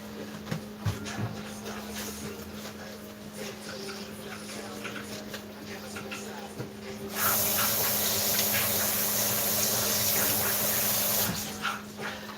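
Tap water sprays steadily into a kitchen sink as a utensil is rinsed after mixing cream cheese for a cheesecake, a loud hiss starting midway over background kitchen noise and continuing for several seconds.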